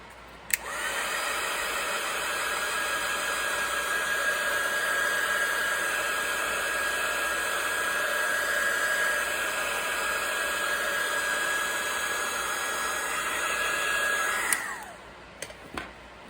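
A hair dryer runs steadily for about fourteen seconds, drying an altered playing card journal page, a loud, close whine and rush of air that switches off abruptly, followed by a few small clicks.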